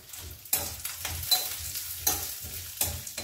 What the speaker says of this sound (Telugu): ఇవి ఇట్లా వేగుతున్నాయి కదా